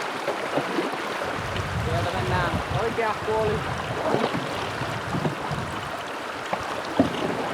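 Rapids rush and splash continuously around a canoe on a river in Norway's Finnmark, with water noise filling the background and someone talking over it.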